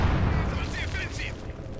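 Incendiary artillery explosions in Company of Heroes 2, a heavy rumbling boom at the start fading into lingering low blasts, with a voice talking over the battle.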